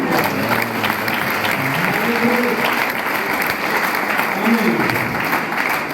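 A church congregation applauds in sustained, dense clapping that continues steadily throughout, with some voices mixed in.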